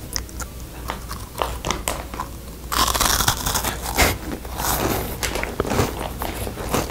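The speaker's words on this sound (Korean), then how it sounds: "옥수수빵 하바나 맛 ASMR" Crunchy Havana-flavour corn bread is chewed right at the mic, dense rapid crackling bites that grow louder and denser partway through and continue steadily without talk.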